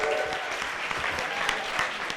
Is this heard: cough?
no